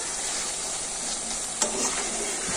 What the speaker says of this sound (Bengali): মাংসটা প্রায় কষানো হয়ে এসছে